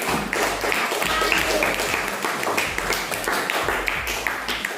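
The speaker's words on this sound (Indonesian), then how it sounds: "Ya, beri tepuk tangan." Students clapping in a classroom during a lesson, a loose, uneven patter of hand claps with occasional louder taps and bumps, moderately close.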